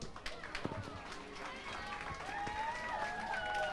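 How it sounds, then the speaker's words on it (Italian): A festival stage audience applauds and cheers as a performer enters, crowd clapping blended with voices and a rising whistle-like tone over continuous noise. "un altro applauso pronto per Valeria Verzì"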